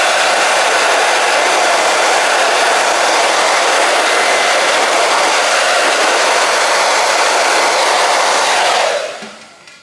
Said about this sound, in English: just use the heat gun.